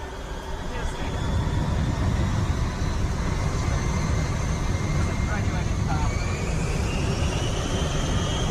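Airliner jet engines spool up and roar steadily as the plane prepares for takeoff in a radio drama scene, a loud continuous whine and rumble with rising tones, heard alone without talk.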